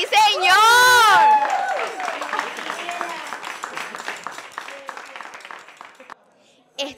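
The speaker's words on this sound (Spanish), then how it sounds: "¡Un fuerte aplauso para ellos!" A crowd at a carnival comparsa performance for Los Rumberos breaks into applause and cheering that fades over several seconds, opening under a loud, resonant voice over a PA.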